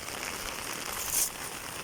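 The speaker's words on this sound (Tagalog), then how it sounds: "Malakas ng ulan eh." Heavy rain pours steadily and loudly, a dense even hiss filling the scene with no voices.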